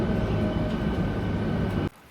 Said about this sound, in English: Just thought you might like a quick view of an all the way through tube train.